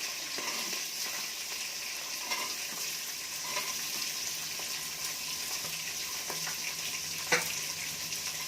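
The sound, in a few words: onions being stirred and fried in a pan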